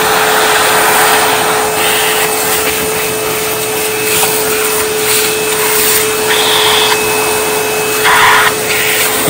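A vacuum sucks up carving debris from a large yew being styled and carved with a Dremel, giving a loud, steady roar with a constant whine that runs the whole time, its pitch shifting a little as the nozzle moves.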